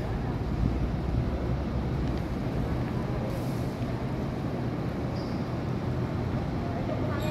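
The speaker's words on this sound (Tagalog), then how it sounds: "Lakas pa rin yung hangin." Strong gusting wind from Typhoon Uwan roars steadily against the microphone at night in San Juan, a dense, rumbling low buffeting with no rain and no clear talk.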